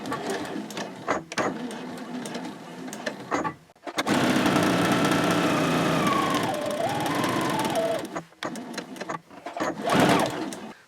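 A sewing machine stitches down a seam on a square fabric basket, running in short bursts and then in one long steady whir, close and even, with no voices.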